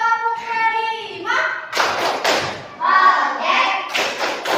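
A school class performs a rhythmic clapping chant, chanting voices alternating with bursts of hand claps and thumps from many children at close range.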